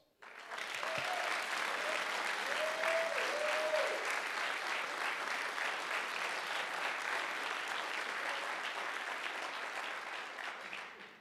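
Applause for the sponsors at a collegiate cyber defense competition awards ceremony. Steady, even crowd clapping, moderately distant and fairly soft, lasts about eleven seconds with a voice briefly over the start before it tapers off at the end.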